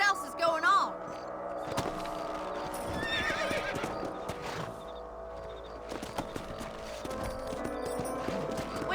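Horses in the video game Red Dead Redemption clop along at a trot with a loud whinny, the hoofbeats steady and close across the whole stretch.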